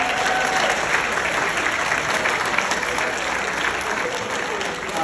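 Group of students on a school trip applauding together, a steady, full round of clapping from many hands that holds at an even level for the whole few seconds.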